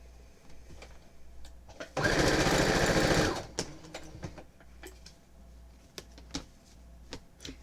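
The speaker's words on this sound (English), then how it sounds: "Alright, so let me sew this one." Sewing machine stitching pattern pieces runs in one fast, loud burst of about a second and a half, with quiet handling clicks and taps before and after.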